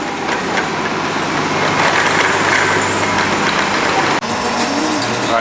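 Buses idling and moving at the Shades of Green resort transportation center, a loud engine rumble with low droning hum, a brief sharp break near the end, no talking.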